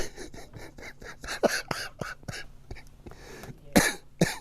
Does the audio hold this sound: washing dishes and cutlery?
no